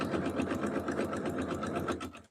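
A FAF Quilt Ambition 635 sewing machine stitches fabric strips for a jelly roll rug, its needle whirring in a fast, steady rhythm close up, then slowing to a stop at the end.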